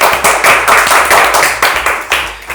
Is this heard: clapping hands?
yes